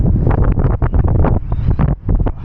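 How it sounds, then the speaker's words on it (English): Loud, gusty wind on a tower top in Riyadh, Saudi Arabia, batters the microphone in heavy rumbling bursts, a rough continuous roar with no other sounds standing out. "It's noisy, windy out here."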